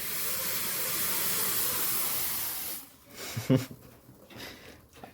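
Tea boiling over on a gas stove gives a steady, loud frothing hiss that suddenly cuts off, followed by a few soft clatters and rustles nearby.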